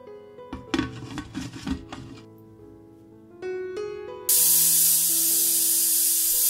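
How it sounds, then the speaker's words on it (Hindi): Pressure cooker holding soaked black urad and rajma for dal makhani lets out a loud, steady whistling steam hiss that starts abruptly partway through and runs on without a break, following quieter clatter and tones. "प्रेशर कुकर में लेकर उसमें 2 कप पानी डालेंगे और 7 से 8 सीटी आने तक उसको कुक करेंगे।"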